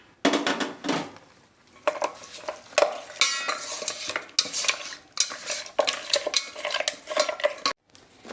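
Mutton marinated with lime juice, turmeric and pepper powder is mixed for biryani, with wet squelching stirs and utensils scraping and clinking against the dish in uneven bursts, close and fairly loud, no talking.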